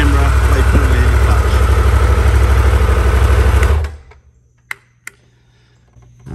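A Triumph Tiger 1200 motorcycle engine idles loud and close with a steady even throb, then cuts off abruptly, leaving near silence broken by a couple of sharp clicks.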